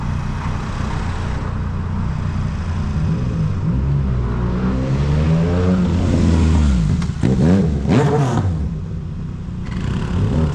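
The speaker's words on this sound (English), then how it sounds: "fast motorcycle behind." A loud engine rumble builds and rises in pitch as a fast motorcycle draws close and roars past, then fades under steady road noise.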